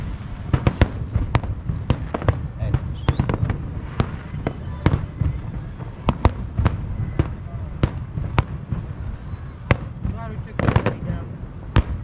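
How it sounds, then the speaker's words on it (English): Fourth of July fireworks on Catalina crackle and pop in rapid, irregular bursts, sharp bangs scattered over a steady rumble, with voices faintly mixed in. "And we watch an awesome fireworks show before it gets canceled."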